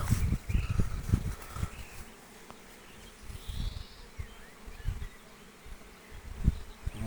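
Honeybees foraging on blooming acacia buzz around the listener, their low droning swelling and fading in irregular passes as individual bees fly close by, with no talk.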